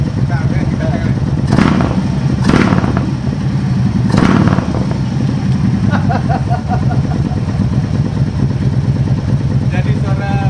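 A Harley-Davidson Road Glide's aftermarket exhaust revving in short bursts with a steady idle rumble between, loud and close, with background chatter throughout.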